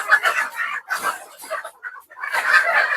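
Free-range country chickens cluck and chatter at a native poultry farm in Thoothukudi district, a busy close cluster of calls in bursts with brief pauses.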